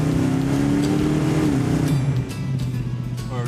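A '72 Chevrolet Nova V8 engine revs in a garage, a loud steady drone with rising and falling pitch, the throttle opened only partway and easing off near the end.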